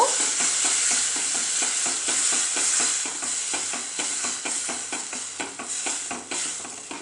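A spice paste made with water is stirred into onions frying for a jackfruit curry. A steady bright sizzle runs throughout, broken by a regular rhythm of close spoon scrapes and knocks against the pan.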